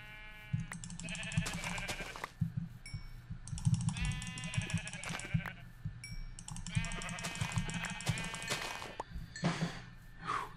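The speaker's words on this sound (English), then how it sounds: "Let's kill these sheep." Sheep in the Minecraft video game bleat repeatedly in short, wavering calls, several overlapping in bursts, over steady clicking of a computer keyboard and mouse.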